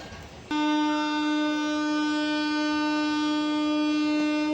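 A train pulls away from a station platform, opening with a sudden steady horn-like tonal drone that holds loud and unbroken, with a faint rumble beneath and no talk.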